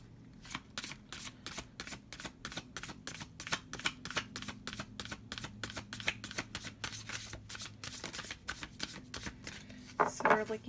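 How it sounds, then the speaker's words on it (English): Rapid riffle-shuffling of large tarot-style reading cards, a steady stream of crisp fluttering clicks for about ten seconds, close by, ending in a brief louder rustle. "Just going to do a clear shuffle here."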